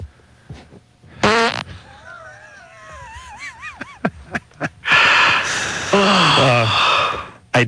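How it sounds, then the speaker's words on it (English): A fart comes through a call-in radio phone line, with a loud breathy blast, whistling squeaky tones, several brief bursts and then a long loud rasping push, mixed with gasps and sighs. "I got a fart here."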